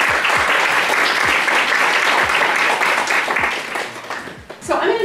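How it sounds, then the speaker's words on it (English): A lecture audience breaks into loud, sustained applause for a speaker, dense clapping that dips briefly near the end before swelling again. "So can I have a round of applause for Terry?"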